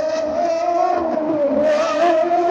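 A 2012 Red Bull Formula 1 car downshifting, a loud continuous high-pitched engine howl close by with a steady tone that shifts briefly as gears drop, with no talk over it.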